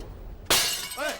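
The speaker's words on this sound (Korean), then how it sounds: "조유는 자신이 만든 도자기를 스스로 박살내버리고는 그 자리를 떠납니다" Ceramic pottery smashed to pieces in a single loud shattering crash, followed by a brief ringing rattle of fragments settling.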